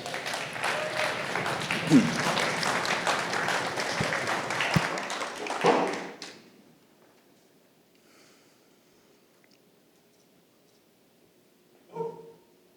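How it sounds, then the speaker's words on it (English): Crowd at a startup pitch event in Texas applauds a presenter: loud, dense clapping for about six seconds that stops abruptly, followed by near silence and one brief later sound. "A big round of applause"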